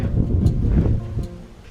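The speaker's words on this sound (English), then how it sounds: "Oh, it is windy out there." Wind gusts in a snowstorm at City of Rocks buffet the microphone outdoors, a low rumbling roar that is strongest early and eases off toward the end.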